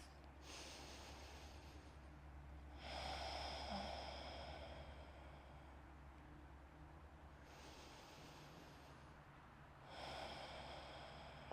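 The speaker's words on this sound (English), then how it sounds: "Ujjayi breath." Ujjayi breathing during a yoga class: slow, deep oceanic breaths through the throat, alternating long hissing inhales and exhales in an even rhythm, close and soft, with no talk.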